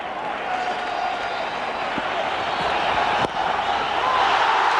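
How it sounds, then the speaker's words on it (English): Cricket stadium crowd at an India vs England match roaring after a wicket, a steady broad wall of cheering and applause with a couple of sharp knocks, no talk over it. "The crowd's gone wild"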